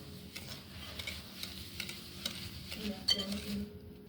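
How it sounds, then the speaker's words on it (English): Brown butter and sugar whisked in a bowl for brownie batter, faint rhythmic ticking taps of the whisk against the side repeating steadily, quiet and close. "we're gonna whisk this for 30 seconds"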